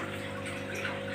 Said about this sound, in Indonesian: air mengalir dari top filter